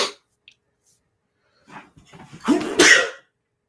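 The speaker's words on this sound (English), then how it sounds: "I'm going to sneeze." A single sharp sneeze bursts out after a quiet pause and a short intake of breath, close and loud.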